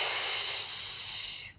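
A single breathy inhalation during a beginner pilates exercise, a soft steady hiss lasting about a second and a half before fading out.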